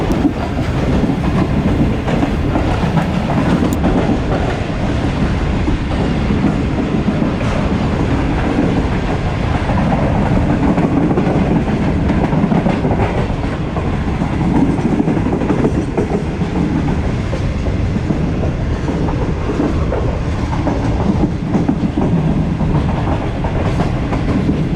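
The Shalimar Express rumbles along its tracks between Karachi and Multan, a loud continuous roar with steady clickety-clack from the wheels and no voices.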